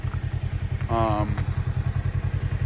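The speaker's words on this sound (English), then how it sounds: "we're just gonna go for the first test drive. Just do a bunch of varying RPM" A Kawasaki KRX 1000 engine idling with a steady, throbbing low pulse, close and loud, while a voice speaks briefly over it.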